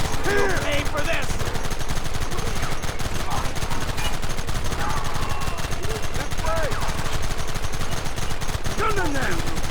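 Sustained gunfire in Red Dead Redemption, a dense continuous barrage of shots and machine-gun bursts at steady high loudness, with shouted voices breaking through the din.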